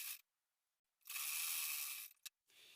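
A sewing machine runs long basting stitches along a blouse belt strip: short bursts of motorised stitching, with one steady run of about a second between brief pauses. No one speaks.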